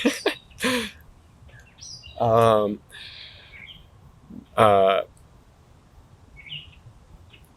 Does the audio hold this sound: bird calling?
yes